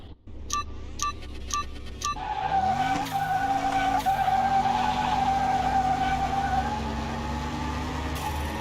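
A Ferrari in the PC game Car Mechanic Simulator 2021 does a tire burnout: a short burst of clicks, then an engine revving up and holding a loud, steady roar alongside a sustained high tire squeal for several seconds.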